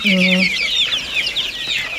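Many Spanish and Master Grey chicks and hens cluck and peep in a busy, high-pitched chorus close by, with a brief lower cluck at the start.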